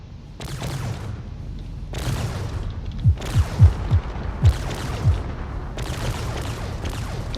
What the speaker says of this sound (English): close range weapons are already activating here